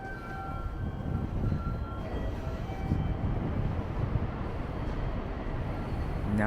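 A local passenger train on the Nagoya–Yokohama route in Japan rolls along with a steady low rumble and rattle, continuous and fairly loud, with a faint rising whine near the end.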